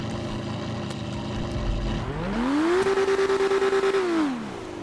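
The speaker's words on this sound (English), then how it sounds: "This car is loud as hell." A loud car engine in Grand Theft Auto idles with a rough rumble, then revs sharply, holding a high buzzing pitch before dropping back down, close and dominant.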